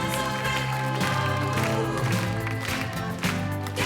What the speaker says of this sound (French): Je voudrais qu'on applaudisse très fort Lionel